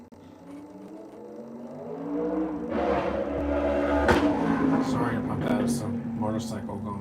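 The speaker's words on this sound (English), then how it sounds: "motorcycle going by." A motorcycle passes in the background of an old monster film, its engine swelling from a low rumble into a loud, rising roar that holds near and steady to the end.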